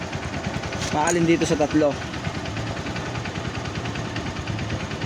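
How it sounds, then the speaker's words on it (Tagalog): Electric motor running during a stator test, a steady humming drone with vibration, while someone speaks over it at the start. "pag magto-trouble tayo, paandar ng motor"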